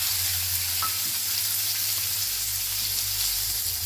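Cumin seeds spluttering in hot oil while frying in a home kitchen, a steady close sizzle with faint scattered pops and no talking.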